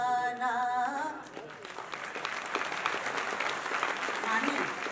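Audience applause at a grand launch event honoring a singer, a steady broadband clapping wash that rises as a sung voice fades out and continues to the end.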